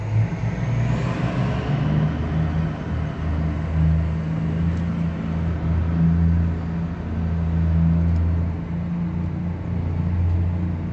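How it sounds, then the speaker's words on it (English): Several trucks roll past in the Subtropolis underground complex, a sustained deep engine rumble with throbbing low tones that rises and falls over about eleven seconds, close and unbroken. "I'll get past these trucks."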